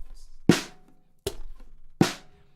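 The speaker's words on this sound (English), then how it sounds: "So if you have a basic rock beat that sounds like this," Three loud, sharp drum hits land about three quarters of a second apart in a sparse rock beat, each a crisp close strike that decays quickly into near silence, with no voice over them.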